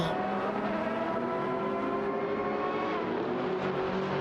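Video game race cars, a Ford GT GT1 and a Lamborghini Murcielago RGT, give a steady loud engine drone with layered tonal whine held throughout, with no talk.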